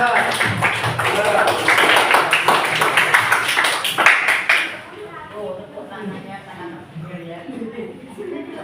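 A classroom of students claps for a presenting group for about four and a half seconds, a dense burst of hand claps that stops abruptly, after which a teacher talks.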